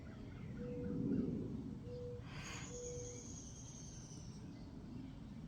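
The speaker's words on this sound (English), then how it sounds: "I don't know if you can hear the owl in the background." An owl hoots softly outdoors in the distance, giving a few faint, low, spaced calls. Quiet insect chirping and nature ambience sit behind them, and no one speaks.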